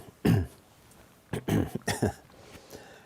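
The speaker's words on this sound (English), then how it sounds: "I will pause for a moment to clear my throat" A man clears his throat during a live Dhamma Q&A: a sharp single rasp, a pause, then a quick run of three or four throaty clears, close and fairly quiet in a still room.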